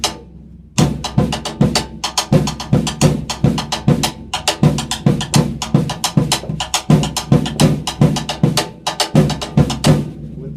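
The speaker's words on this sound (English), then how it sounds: "I'll put it on the floor tom, and I'm going to play my right hand on the rim" Drum lick on a floor tom with the right hand clicking on the rim, a fast run of flams, paradiddles and sixteenth-note strokes. It starts sharply after a brief pause and runs close and loud with steady, dense rhythmic hits.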